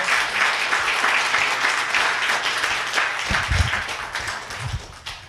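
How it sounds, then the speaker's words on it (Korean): A church congregation standing to applaud a family after a Sunday prayer, sustained dense clapping that slowly thins toward the end, with a few low thumps near the close. "같이 박수로 한번 격려해 주시기 바랍니다."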